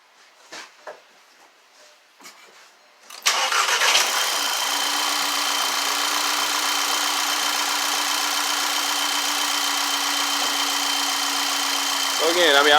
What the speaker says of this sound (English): So let me start it up.